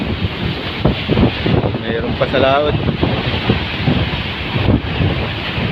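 Heavy wind roars across the microphone with a constant broadband rush, mixed with surf, during a typhoon at Pitugo, while someone speaks over it.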